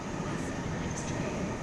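A Sydney Waratah electric train passes Stanmore station, a steady loud rumble and rush of wheels and motors close by, filling the whole short stretch.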